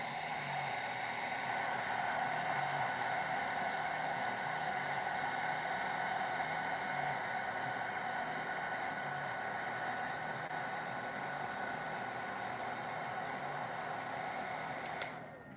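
A hair dryer blows a constant loud whooshing hiss over fresh paint on a skateboard deck, running steadily for the whole stretch before cutting off abruptly at the end.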